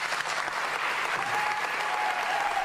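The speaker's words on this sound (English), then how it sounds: "please give Don a big round of applause" A theater audience applauds for Don Rosa, steady dense clapping filling the room from start to finish with no break.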